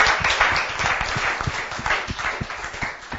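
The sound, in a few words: audience applause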